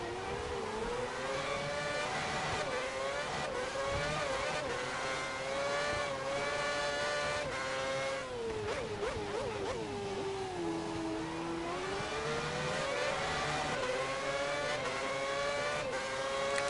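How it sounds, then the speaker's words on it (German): Formula 1 race car engine in the F1 2010 video game screaming at high revs, pitch climbing and dipping through gear changes, loud and sustained throughout. "Beim Motor hat man jetzt richtig gehört, wie der Motor richtig arbeiten musste."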